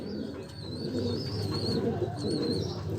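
Golden breeder pigeons coo softly in a low, rolling murmur, with faint higher chirps above it, steady and fairly quiet nearby with no talking.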